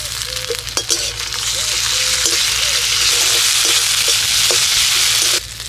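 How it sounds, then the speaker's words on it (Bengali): Onions fry in oil with ginger and green chilli paste, giving a loud, continuous sizzle with occasional scraping stirs and a clink or two; no talk. "এবার আমি পেঁয়াজ ভাজার উপরে দিয়ে দিচ্ছি আদা আর কাঁচা লঙ্কা বাটা"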